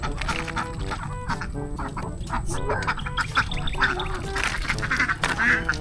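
A flock of ducks quacking outdoors, a busy overlapping chorus of nasal quacks and clucks from several birds at varied distances, continuous and fairly loud.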